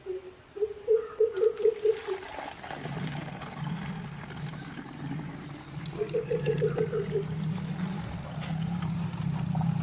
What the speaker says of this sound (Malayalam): എന്നിട്ട് ഞാൻ ഈ ബോട്ടിലേക്ക് വെള്ളം ഒഴിച്ചു കൊടുത്തു.